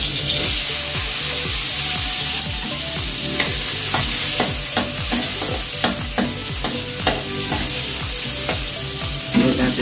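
Crushed garlic and onion frying in a pan, a loud steady sizzle with repeated scraping stirs and utensil taps throughout, close up and continuous.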